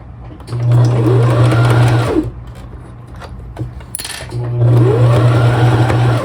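A sewing machine stitches a small quilted tag made from fabric scraps in two loud, steady bursts. A short pause and a brief faint voice come between the runs.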